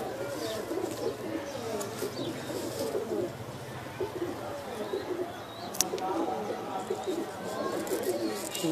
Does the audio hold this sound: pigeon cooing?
yes